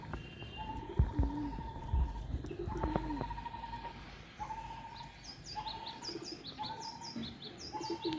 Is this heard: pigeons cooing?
yes